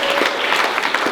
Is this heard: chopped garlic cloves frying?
no